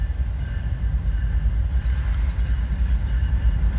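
A freight train rolls past at mile marker 199, a steady, loud low rumble and rail roar holding constant throughout with no talk over it.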